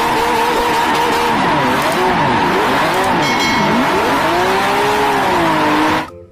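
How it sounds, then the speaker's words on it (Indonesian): A green toy race car runs with a steady whirring, skidding motor hum and wavering pitch, loud and close for about six seconds before cutting off abruptly. "Wih, mobil balap warna hijau."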